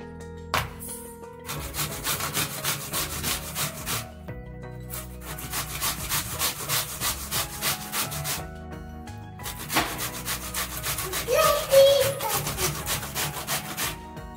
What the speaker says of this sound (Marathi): सेम ह्याच पद्धतीने मी दुसरी देखील कैरी अशीच किसून घेणार आहे.